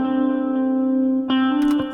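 A lo-fi track melody holds a sustained, buzzy electronic note, then a couple of clear plucked notes strike near the end.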